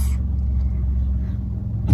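A car travels along a road in Fukuoka, heard from inside as a steady low rumble of engine and tyres, with a brief louder swell at the end.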